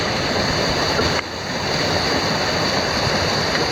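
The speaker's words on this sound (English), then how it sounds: "It's like a water plume" Water rushes down a natural rock slide into a pool along a forest trail, a steady, loud broadband roar heard up close without a break, with no talking.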